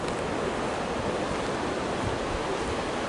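A river flows past a bridge in the French town of Courcay, a steady, broad rush of water heard alone and fairly loud throughout, with no voices.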